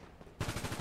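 A quick burst of automatic gunfire in GTA V breaks out after a quiet start, rapid evenly spaced shots rattling loudly for about half a second.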